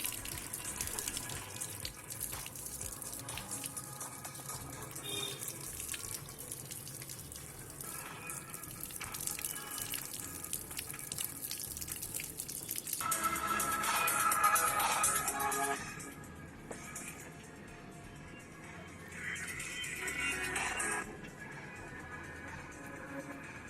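Water runs steadily from a tap over a POCO X4 GT smartphone during a water-resistance test, a continuous close splashing flow that swells louder midway and then eases slightly before picking back up.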